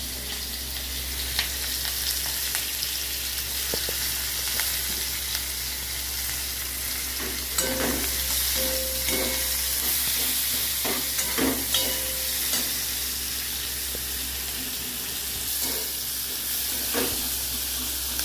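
Chopped onion sizzles and fries steadily in hot oil for a Bengali prawn and chana dal dish, a constant close hiss broken by scraping stirring clatters.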